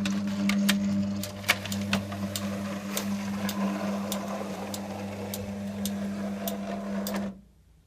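A Nice ET30F tubular motor drives a roller shutter open with a steady low electric hum and a string of regular clicks, running close by and then stopping abruptly at the end.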